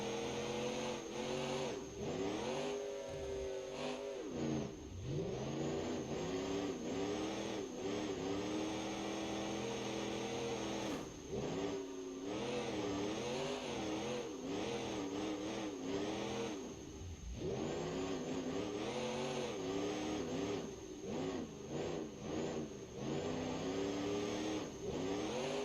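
A V8 diesel monster truck engine in BeamNG.drive revs hard and repeatedly, rising and falling through high revs with turbo whine, loud and continuous for the whole stretch with no talking.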